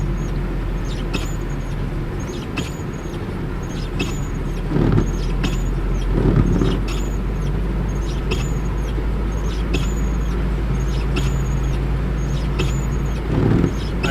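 Car engine slowing and downshifting, a steady low drone with brief surges in revs and faint repeated ticks over constant road noise throughout.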